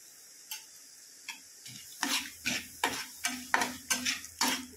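Whole masala spices frying in a pan for egg curry, quiet crackling under a run of regular scraping knocks from stirring that come about twice a second and grow louder partway through.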